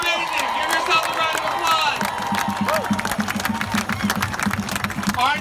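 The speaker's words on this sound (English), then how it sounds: "round of applause" A crowd at a March for Truth rally applauds and cheers, a steady wash of clapping and scattered shouts, moderately loud and continuous, with a low rumbling engine-like hum beneath.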